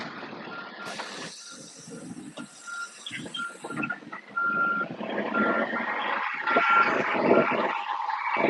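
A truck reversing, its backup alarm beeping repeatedly in steady short tones over a loud engine rumble and hiss, fairly close, with no talking.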